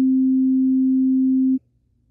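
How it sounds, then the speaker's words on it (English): A sine wave oscillator on a Teenage Engineering TX-6 field mixer synth, a pure steady low-pitched tone held loud and clean for about one and a half seconds before cutting off abruptly into near silence. "And then you have the sine wave"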